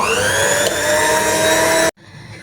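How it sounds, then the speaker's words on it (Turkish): A loud, steady electric motor whine runs continuously as a hand mixer whips cream at high speed, then cuts off abruptly near the end. "şimdi kremamı biraz daha çabuk soğutmak için şöyle mikserle çırpıyorum"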